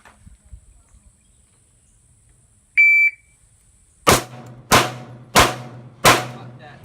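Four loud, sharp pistol shots at an outdoor shooting range, fired in a quick, evenly spaced string after a short electronic timer beep; the handguns include a Sig P320RX, Glock 17C and 19C with RMR sights, and a Sig P226.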